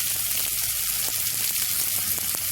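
Taro pieces roasting in a pan, giving a dense, continuous sizzle with faint crackles and occasional stirring scrapes, close and steady with no talk.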